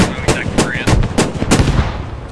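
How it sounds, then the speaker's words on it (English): Loud, sharp blasts in the military shooter Squad as a rocket strikes, a cluster of about six hard cracks in quick, uneven succession over a couple of seconds, close and punchy. "It's a rocket."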